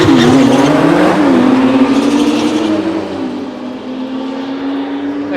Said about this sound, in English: I think this Porsche is going to put a big old gap on the Ferrari.